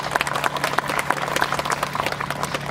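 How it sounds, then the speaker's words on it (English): Clapping audience at a ribbon cutting ceremony, a short burst of dense, close hand claps with a steady low hum underneath, lasting under three seconds. "Let's give them a big round of applause."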